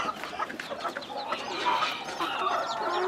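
A buff-coloured rooster clucks at a gamecock breeding farm, a run of soft, close calls and clucks over a steady outdoor background with no speech.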